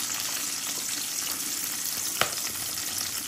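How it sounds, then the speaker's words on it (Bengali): Onions frying in a pan for a home-cooked chicken and potato curry, giving a steady close sizzle throughout with one brief stir or clatter midway and no voices. "পেঁয়াজ দিয়ে দিব"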